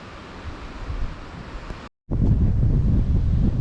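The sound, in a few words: strong wind outdoors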